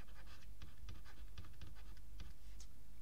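Marker or chalk writing a number on a classroom board during a math lesson, a few quick faint scratchy strokes in a short burst, close and without speech.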